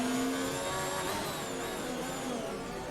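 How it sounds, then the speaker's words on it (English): A sim racing car's engine screams at high revs through downshifts and engine braking, a continuous loud whine with pitch dips and rises as gears drop. "You hear from AJ there doing high rev downshifts,"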